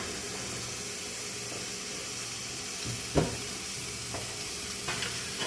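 Chopped medium-to-large onion sizzles steadily in hot fat in a pan, a soft continuous frying hiss with one sharper clatter near the middle and a few faint knocks.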